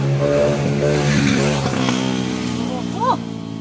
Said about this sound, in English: the loud motorcycle